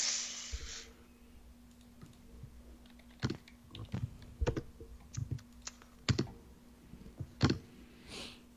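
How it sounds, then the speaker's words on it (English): Irregular clatter of computer keyboard keys and clicks, close and fairly quiet, in uneven bursts over a low steady hum with no talking. "Who was smacking their head off the keyboard?"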